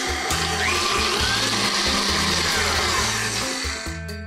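A stand mixer runs at top speed creaming butter and sugar, a loud, steady motor whir with a rhythmic low churning that holds throughout and eases slightly at the end.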